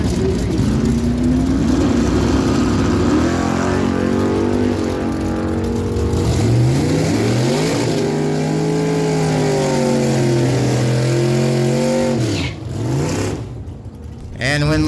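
A 2010 Chevrolet Colorado and a 1979 Chevy Malibu launch side by side in a drag race at Miramichi Dragway. Loud engines roar and rise in pitch again and again, with an announcer talking over them before the noise drops away.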